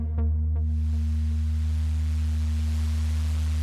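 A Prophet 6 synthesizer plays a steady, loud tone with layered low harmonics while a broadband noise layer swells in after two brief clicks, its amplitude chopped by a fast random LFO into a continuous hiss.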